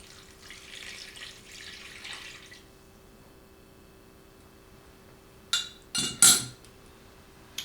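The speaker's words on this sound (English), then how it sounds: "And I'm stirring it up now in case anything is set to the bottom." Chicken bouillon is dissolved into hot water with a spoon, first as a soft swishing stir, then as a few sharp clinks of metal against the container near the end. The sounds are close and heard alone without speech.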